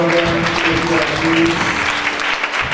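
A church congregation applauding in praise of God, a sustained loud wash of clapping from many hands with voices mixed in.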